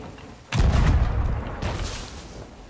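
A ship's cannon in the pirate video game Sea of Thieves fires once with a loud, close, booming blast, then a rumbling tail that fades, followed by a second dull boom about a second later.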